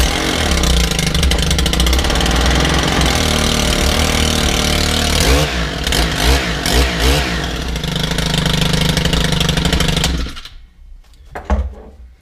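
A Stihl KM110R 4-MIX engine runs loud and close, steady with a few rises and dips in revs, then cuts off abruptly near the end, leaving a couple of faint clunks.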